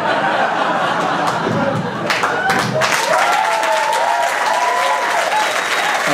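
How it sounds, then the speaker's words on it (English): A comedy club crowd at a student stand-up show breaks into sustained applause with scattered chuckles and laughter, loud and close throughout, while someone speaks briefly over it. "You can stop clapping."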